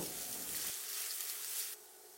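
Onion, garlic and dried chillies sizzling in a pan, a steady soft hiss of frying with the low stirring sound dropping away partway through, faint and close.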